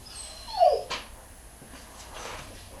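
A dog lets out a single high, sliding whimper, followed by softer whines and faint vocalizing in a quiet indoor room.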